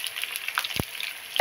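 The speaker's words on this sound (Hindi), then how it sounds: "अब हम इसमें डालेंगे प्याज" Onion paste frying in a pan for an egg masala gravy, a steady sizzle with a sharp stirring scrape near the middle and another clatter at the end, close and moderately loud.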